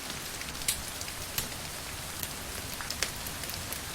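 Rain in an old film scene, a dense, steady hiss of falling drops with a few sharper splashes and taps, constant and fairly close, with no voices.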